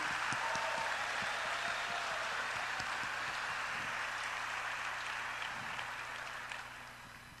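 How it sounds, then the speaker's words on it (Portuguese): A church congregation applauds a children's ministry team: steady, moderately distant clapping with a hiss like rain, a few sharper claps standing out, slowly tapering toward the end. "Eu pedia que vocês aplaudissem o pessoal do Geração Futuro."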